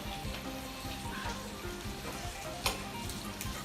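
Pork sizzles and crackles on a Thai mookata grill, a steady close frying hiss with occasional louder pops and stirring.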